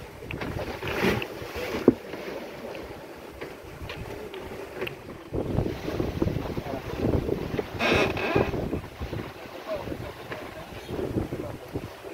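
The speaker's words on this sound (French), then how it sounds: "On a remis la voile, on a toute la voile, avant et arrière." Sailboat under full sail with front and rear sails set on the Caribbean Sea, steady wind and water rushing past the hull, close with buffeting wind gusts on the microphone and some brief voices.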